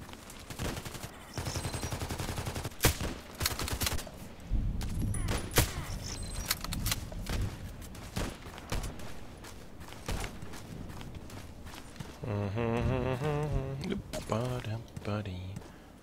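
Gunshots in a sniper video game: sharp, repeated cracks and bursts scattered across sixteen seconds, some in rapid clusters, with a person talking at intervals between and over the shots.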